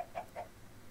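Chickens clucking in the Minecraft video game, two or three quick faint clucks in a row early on, then quiet background.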